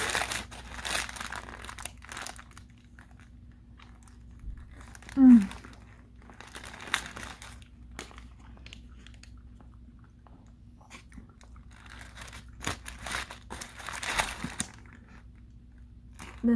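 Someone eats crunchy Taco Bell food right up against the microphone. Sporadic crisp bites and crinkling wrapper sounds break through quiet stretches, with soft chewing and faint voice sounds between them.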